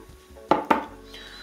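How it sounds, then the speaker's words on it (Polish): Two quick clinks of a spoon against a bowl while stirring a salad dressing with coconut flakes, close and sharp, then a soft scrape and a faint sound at the end. "Wszystko ładnie mieszamy. Ok, sosik mamy gotowy."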